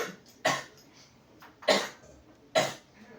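Three separate coughs, each a short harsh burst, spaced about a second apart and heard up close.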